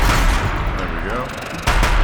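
Gunfire in Horizon Zero Dawn, bursts of broadband shots with a loud blast near the end, layered over a busy game mix.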